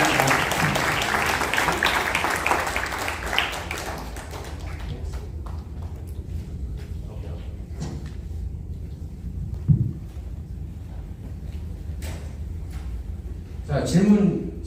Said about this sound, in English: Come on, let's go and give another big round of applause.